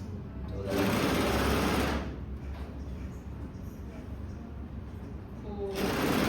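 An overlock sewing machine stitches along a fabric edge, with a loud, close whirring burst of about a second, a quieter stretch, then the motor revving up again at the end.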